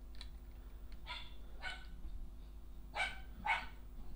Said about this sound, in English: My dog's barking.